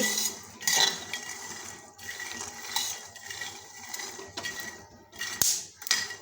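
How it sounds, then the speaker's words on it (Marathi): Peanuts dry-roasting on low heat in a pan for chikki, a dense stream of light rattling, ticking and scraping clicks as the nuts shift against the metal, close and steady with a few louder knocks. "आवाज कसा शेंगदाण्याचा येत आहे"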